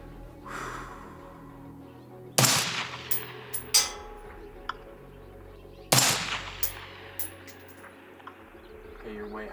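Two sharp 5.56 rifle shots fired at a long-range steel target, loud and spaced about three and a half seconds apart, each followed by ringing echoes and faint distant impact clangs, with quiet outdoor background between.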